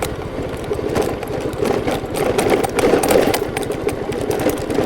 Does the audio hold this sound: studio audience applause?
no